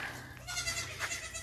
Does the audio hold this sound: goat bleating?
yes